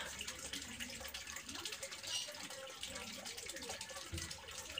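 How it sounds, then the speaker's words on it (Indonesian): Yellowish, leaf-tinted water being siphoned out of a fish tank used for breeding rainbow fish, a soft steady trickle and gurgle of flowing water, faint and close, with occasional handling noises. "Ini airnya sedikit kuning, bakalan saya sedot sebagian."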